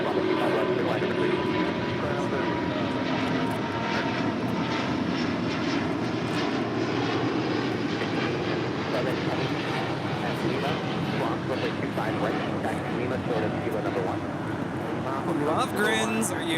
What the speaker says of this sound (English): We have SAS taking off here on the south side, flight 932, taking off to Copenhagen on the A350-900.